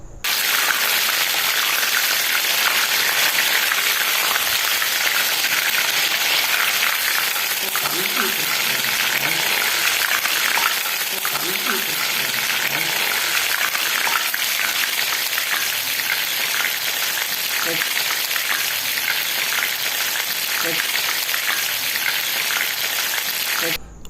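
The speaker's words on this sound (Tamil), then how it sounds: "இந்த எண்ணெயினுடைய சலசலப்பு அடங்கணும்" Mushrooms frying in hot oil for crispy mushroom 65, a steady loud sizzle and bubbling crackle that runs unbroken, close up, with no talking.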